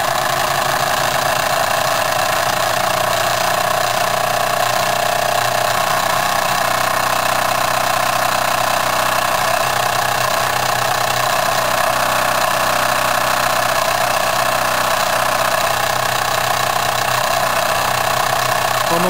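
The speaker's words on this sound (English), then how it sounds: "I'll just slow down the engine a bit and let it build up to a steady speed" A Jensen 75 model steam engine fitted with a superheater runs at a steady speed, giving an even, continuous mechanical whir and hum, close and loud, with no talk.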